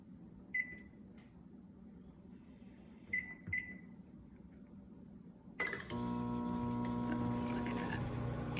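A few sharp button beeps, then a microwave oven starts up with a steady, close humming drone that continues to the end.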